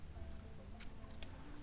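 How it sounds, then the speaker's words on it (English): Scissors snipping crochet yarn in a quiet room: a couple of brief, close, crisp cuts in quick succession over faint low background hum, with no talking. "chain 1 and cut."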